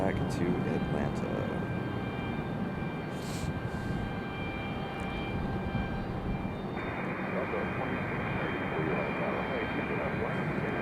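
A Delta Boeing 757-200 jet at Raleigh-Durham airport, a steady loud engine roar with a droning tone throughout, outdoors with a little wind and a voice speaking faintly over it.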